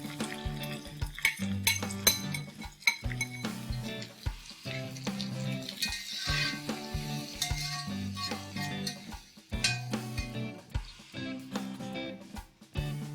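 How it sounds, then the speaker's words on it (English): Five sliced onions fry in hot ghee, a steady sizzle with utensils stirring and scraping against the pan and a few metallic clinks, all close by with no talk. "I'm going to fry 5 sliced onions till they have turned nice and brown."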